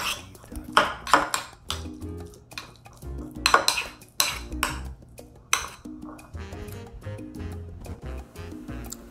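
Metal spatulas clank and scrape repeatedly on a Blackstone 22-inch griddle while chicken fried rice is mixed, with sharp, irregular bursts of clatter close by.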